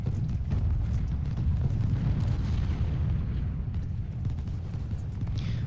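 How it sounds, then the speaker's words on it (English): Artillery booms and rumbles in Ultimate General: Civil War as cannon fire rolls into a continuous low roar of distant blasts during a battle, with no clearly separate shots. "Alright, hit there with your artillery."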